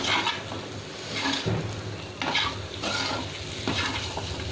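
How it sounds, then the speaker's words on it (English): Brinjal masala being stirred in a pan with a little water, a spoon scraping in repeated rhythmic strokes over a steady close sizzle of frying. "Again we'll stir the whole thing for a minute so that the masalas are"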